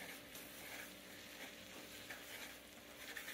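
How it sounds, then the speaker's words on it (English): Flour and butter stirred into cooked chorizo in a pan, a soft continuous sizzle with quiet scraping, faint and close, with no talking. "I'm just going to add a little bit of butter. And we're going to add probably a little less than half a cup of flour. And mix that around."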